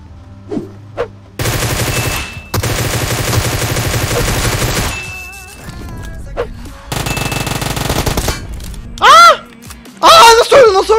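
Long, loud bursts of automatic Groza rifle fire in the video game PUBG Mobile, several sustained volleys separated by short pauses, with a voice speaking near the end.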